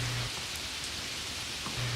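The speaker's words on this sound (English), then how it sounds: "It began to rain." Steady rain falls as evening darkens, a dense, even hiss of drops on surfaces that holds at a constant level with no voices.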